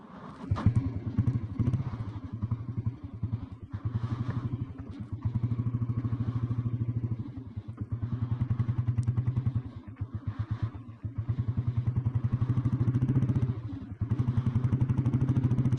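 An old Royal Enfield Bullet petrol motorcycle on contact-point ignition idles nearby with a loud, steady thumping beat, its pulses dipping and recovering a few times.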